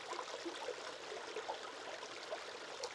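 A stream flowing over and around rocks, a faint, continuous gentle rush of water with small bubbling trickles, heard alone and fairly distant.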